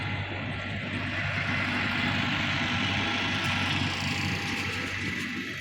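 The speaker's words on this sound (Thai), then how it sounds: "รถไถมาเบรกก่อน เบรกก่อนให้รถไถไปก่อน" A farm tractor runs nearby on a rural road, a continuous low, throbbing engine drone holding steady at moderate loudness, with no voices.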